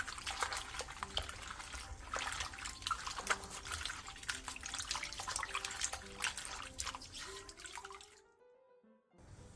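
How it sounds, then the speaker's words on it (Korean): Bellflower root (doraji) being rubbed and rinsed by hand in water, with continuous splashing and dripping close by for several seconds before the sound drops away near the end. "도라지는 물에 2번 정도 문질러가면서 씻어내준 뒤 물기를 충분히 빼놔주세요."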